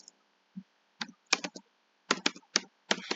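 Keys on a computer keyboard clack in quick, close bursts of separate clicks with short pauses between them, as a word is typed into a spreadsheet.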